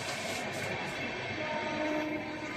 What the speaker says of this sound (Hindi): आपका रेलगाड़ी को इतना आवाज नहीं करता भाई, ये गाड़ी कुछ खास चीज है